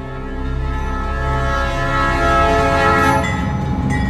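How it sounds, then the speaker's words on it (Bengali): A train pulls out of a station, its long, loud, steady horn-like tone holding over a rumbling, rising drone of rolling wagons for several seconds, with no voices. "চোখের সামনে দিয়ে ট্রেনটা স্টেশন ছেড়ে বেরিয়ে যেতে"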